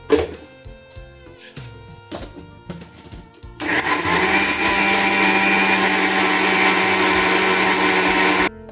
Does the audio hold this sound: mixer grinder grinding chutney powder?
yes